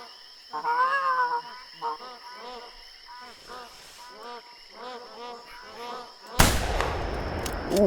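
A single sharp, loud rifle gunshot in theHunter: Classic cracks out near the end. Before it, a voice talks over a steady high chirp of insects.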